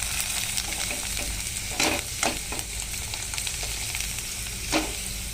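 Puffed rice snack fries in hot oil with a steady crackling sizzle, punctuated by a few louder bursts as more goes into the pan or is stirred.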